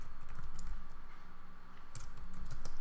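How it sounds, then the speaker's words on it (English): Fingers type on a computer keyboard with a quick run of soft key clicks. The sound is close and fairly quiet, with no talking. "So I'm going to type in here connection failed."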